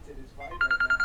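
A telephone starts ringing with an electronic warble of short, evenly spaced pulses, close and clear, after a moment of faint low voices.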